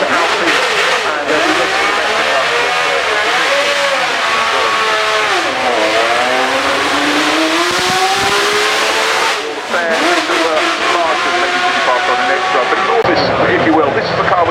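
Formula 1 car accelerating up the Goodwood hillclimb at the Festival of Speed, engine note climbing and falling through gear changes as it passes, loud and continuous under a commentator talking.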